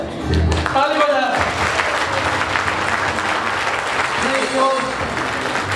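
Wedding guests applaud the couple Man Bahadur Thapa and Anjali Thapa with sustained, dense clapping from a crowd, steady for several seconds, as voices speak over it.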